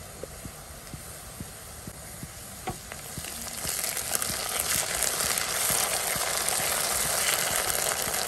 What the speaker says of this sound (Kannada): ಚೆನ್ನಾಗಿ ಫ್ರೈ ಮಾಡ್ಕೊಳ್ಳಿ ಈರುಳ್ಳಿಯನ್ನ, ಸಾಫ್ಟ್ ಆಗಬೇಕು ಈರುಳ್ಳಿ.